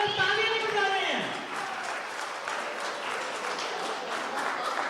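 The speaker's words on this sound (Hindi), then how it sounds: "तालियां बजती रहनी चाहिए" An audience claps at a PhD students' presentation at Capital University, Jharkhand, with a voice talking over the start before the applause settles into steady, moderate clapping.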